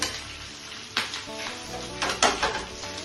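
Egg kebabs frying in hot oil give a soft steady sizzle, with several clinks and scrapes of a utensil against the pan standing out in short bursts.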